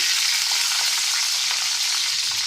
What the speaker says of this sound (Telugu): నూనె వేడెక్కిందండి. ఇందులో ఇప్పుడు పచ్చిమిర్చి వేస్తున్నాం.